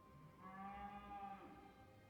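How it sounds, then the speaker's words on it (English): A cow in the video game Tiny Bunny lets out one long, drawn-out moo that sounds faint and distant, rising and fading over about two seconds against a quiet background. "A cow let out a long moo somewhere in the distance."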